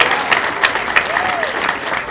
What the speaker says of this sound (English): can we have a round of applause for the Marietta Brass